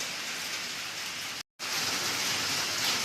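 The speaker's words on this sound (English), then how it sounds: "When we first woke up, it wasn't even raining. Now we're under the carport and you can hear it." Steady, loud rain pours down while heard from under a carport on a farm, a dense continuous hiss of drops on surfaces that cuts out for a moment partway through and then resumes.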